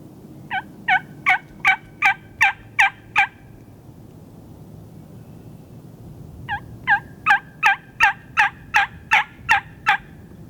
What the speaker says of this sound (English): it's either a shot gobble or just a good hard gobble